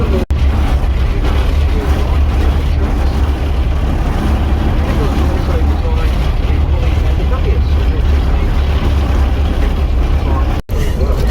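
A Hagglund amphibious tracked vehicle drives off-road near Christchurch, its engine and track noise a loud, steady rumble filling the cabin, with people talking over it throughout.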